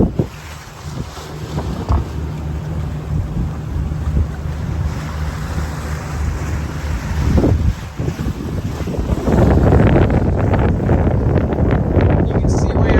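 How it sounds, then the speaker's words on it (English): Strong wind buffeting the microphone on an open boat deck at sea, a deep roaring rumble that swells louder toward the end, with water rushing beneath and faint voices briefly. "When I go outside, I won't be able to talk because it'll be a little windy"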